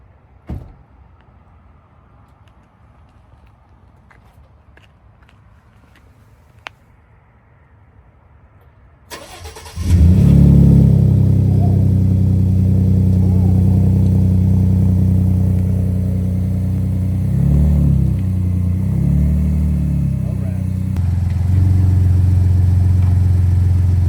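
A Ford F-150 with the 2.7L EcoBoost and a PPE cat-back exhaust cold-starts after several quiet seconds, firing with a loud crank and settling into a steady, deep idle rumble up close, with no talking.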